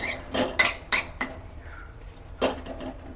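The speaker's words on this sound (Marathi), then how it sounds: "थोडं हलवून घ्यायचं थोडं सगळं" A spoon stirs moong bhaji in a metal pot, making a few sharp clinks and scrapes in quick clusters, then a pause and one more clank, with no one speaking.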